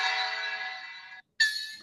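A synthesized gong tone generated in MATLAB rings with a bright, steady metallic sustain for just over a second, then cuts off before a second bright tone starts after a short silence.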